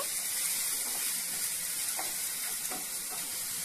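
Onion paste sizzles and hisses in a hot pan while being stirred, a steady loud frying crackle with faint scraping strokes, no voices.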